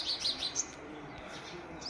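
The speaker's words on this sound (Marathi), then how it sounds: "सकाळ सकाळ चालू आहे पक्ष्यांचा आवाज" Small birds chirping around a house in the morning, a few quick high tweets in short bursts near the start and again at the end, moderately close over a soft background hum.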